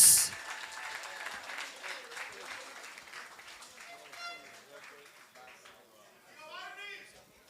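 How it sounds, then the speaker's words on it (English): Audience at a boxing weigh-in applauding in a thin, moderate patter that fades, with a voice speaking toward the end. "And also, a big round of applause for Gilbert Vasquez"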